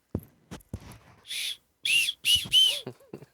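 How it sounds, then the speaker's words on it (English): A handheld safety whistle of the kind given out so block-club members can alert neighbors: a few faint puffs and clicks, then several short, loud shrill blasts in quick succession, close and alone. "whistles and everything to alert your neighbor"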